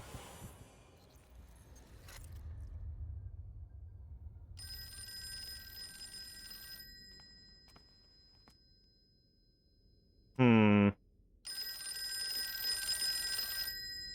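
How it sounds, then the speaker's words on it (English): An old-style telephone bell rings in bursts, long metallic trilling spells separated by pauses and a short electronic chirp, fairly loud and with no voices. "Getting a phone call that I don't want to answer."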